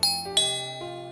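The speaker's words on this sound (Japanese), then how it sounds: "呼び鈴を押す" A two-tone electronic doorbell chime at an apartment door sounds alone, with a bright ding-dong struck twice and a softer third tone that rings out and fades.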